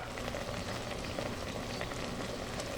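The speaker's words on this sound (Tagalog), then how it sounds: "At maglalagay na tayo dito ng suka." Vinegar going into a pot of simmering pork hocks for pata paksiw, with a steady close bubbling and sizzling hiss that runs evenly throughout without pause.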